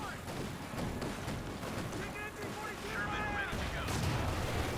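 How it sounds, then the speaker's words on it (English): Artillery barrage in the World War II strategy game Company of Heroes 2, a rolling series of heavy booms and blasts overlapping each other with crackling gunfire mixed in, fairly loud and continuous. "Another barrage called in, this time though by the Major."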